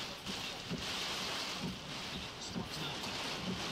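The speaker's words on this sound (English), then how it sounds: "he's just getting clobbered by hail and rain right now" Heavy rain and hail pour down in a Texas thunderstorm, a dense steady roar of drops beating on surfaces with faint low rumbles, continuous and fairly loud with no talk.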